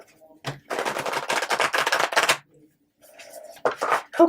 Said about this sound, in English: Just give one more shuffle.